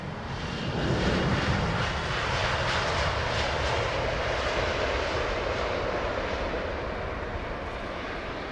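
A large airliner roars steadily overhead while coming in to land at Heathrow Airport, a loud continuous broadband engine rumble that holds for several seconds without letting up, with no voices.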